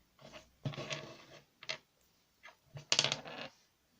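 Dice tumble and clatter across a table during a tabletop wargame, landing in several short bursts of rattling that settle quickly, close and quiet.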